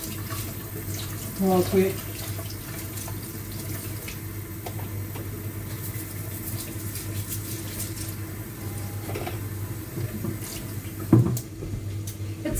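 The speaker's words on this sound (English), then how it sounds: "Let me clean my hands and then I'll show you the pieces I have." Water runs steadily from a kitchen tap as hands are washed clean of dough, a constant close hiss with brief splashes and clatters, while a voice speaks briefly early on.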